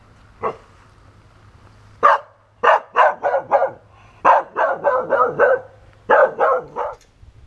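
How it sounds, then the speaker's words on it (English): A dog barks in bursts: one sharp bark, then a rapid string of high, tense barks with short gaps, close and fairly loud, no talking. "it's a very specific, insecure type of barking"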